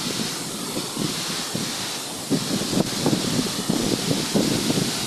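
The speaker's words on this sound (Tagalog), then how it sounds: "Sobrang lakas ng hangin guys." Strong wind at a waterfall in Pangil, Laguna, buffeting the microphone in loud, uneven gusts, with a constant roaring rush and rustling underneath.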